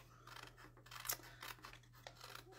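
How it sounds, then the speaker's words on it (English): Scissors snip paper flaps off a cardstock craft box, giving a run of close, crisp cuts with one sharper snip near the middle over a faint steady hum. "So I'm just going to trim off these."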